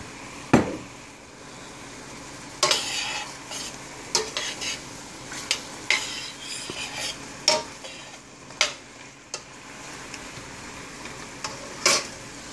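Mushrooms cooking in a pan with a splash of balsamic vinegar, giving a steady soft sizzle under repeated scraping strokes of a utensil against the pan at irregular intervals, close and alone.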